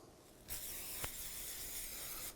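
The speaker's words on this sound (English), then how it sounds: "Spray it with oil" Cooking oil hisses from a spray can onto plastic wrap for covering braided bread, one continuous soft burst lasting nearly two seconds with a brief sharper puff in the middle.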